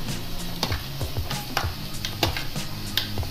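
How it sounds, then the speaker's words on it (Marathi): Moong dal sautéed and stirred in a pan, with a steady close sizzle and repeated sharp scrapes and clicks of the spoon against the pan. "डाळ टाकल्यानंतर साधारण 1 मिनिट आपल्याला हे परतावायचे आहे"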